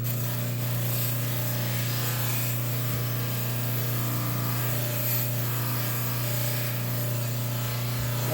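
Old finish being stripped from a double barrel shotgun stock, a continuous close scraping and rubbing over a steady low hum, even in level with no talk.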